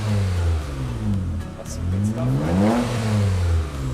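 A 2006 Mitsubishi Eclipse engine fitted with a new performance muffler revs up and down in a close, deep, loud exhaust drone, its pitch climbing and falling twice over a few seconds.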